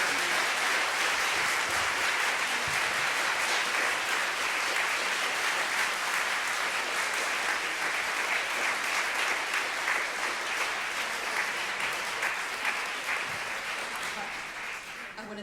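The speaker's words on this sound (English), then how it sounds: "I think a round of applause is what we need." A seated audience at a literary talk applauds a novelist in a long, dense wave of clapping that holds steady for about fifteen seconds before thinning and fading near the end.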